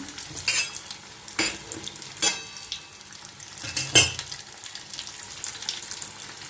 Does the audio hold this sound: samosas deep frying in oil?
yes